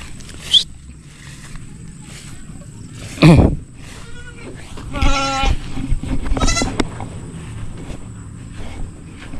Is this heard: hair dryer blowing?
no